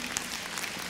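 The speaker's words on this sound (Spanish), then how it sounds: "Aplaude a Cristo." Church congregation applauding during a sermon, a steady, continuous patter of many hands clapping at moderate distance, with no speech over it.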